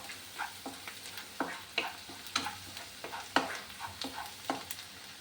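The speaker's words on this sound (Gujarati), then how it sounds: "લસણ બધાનું સાતળી લઈએ અને કચાશ ભાંગી જાય અને એની સાતળવાની સુગંધ આવે અને ગુલાબી થાય ત્યાં સુધી આપણે એને સાતળવાનું છે" Garlic and ginger sautéing in a pan for Gujarati paneer bhurji, a low sizzle under a steady run of sharp spatula scrapes and taps, about two per second, close by.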